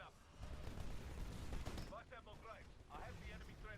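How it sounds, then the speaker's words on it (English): Gunfire in Titanfall aimed at trees, a steady stream of shots for about two seconds, then quieter scattered effects, mixed with in-game noise and a voice talking. "As you can see, I'm shooting trees."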